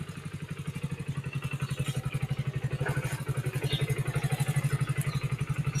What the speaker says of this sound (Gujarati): આપણે બાઇક સ્ટાર્ટ થઈ ગયું છે મિત્રો.